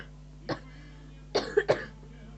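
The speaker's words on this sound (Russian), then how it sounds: "Еще и кашлять начала." A woman with a cold coughs close to the mic: one light cough, a pause, then two quick harsher coughs in a quiet room with a faint background hum.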